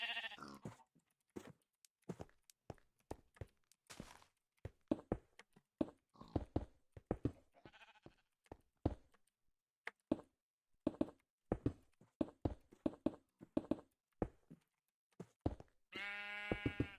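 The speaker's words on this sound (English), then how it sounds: "Sheep, don't get in the way." Minecraft sheep bleats in a game session, a short wavering blat at the very end, preceded by scattered short clicks and knocks.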